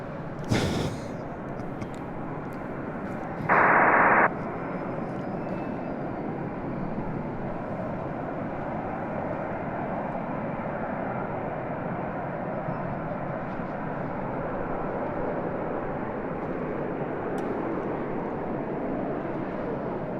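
An Airbus A380 departing LAX for Seoul, a distant steady jet roar sustained throughout, with a short burst of static-like noise early on and no clear talk.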